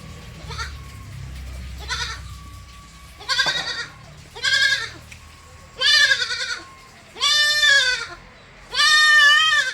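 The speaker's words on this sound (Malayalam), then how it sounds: "തീറ്റ തുടങ്ങിയ ഒരു പെണ്ണാടൻ കുട്ടി, പറമ്പിൽ കല്ലോം വിട്ട് മേഞ്ഞ് തിന്നണ ആടും കുട്ടി കേട്ടോ" A young female goat kid bleats repeatedly, six or so loud, wavering cries at close range in a steady rhythm, with quiet background between calls.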